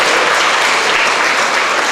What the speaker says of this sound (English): Give your parents a round of applause for